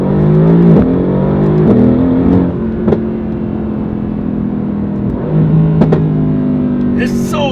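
A Mercedes-AMG GT R engine revs hard and drops repeatedly, a loud throaty roar with gear-change dips, heard close up from inside the car.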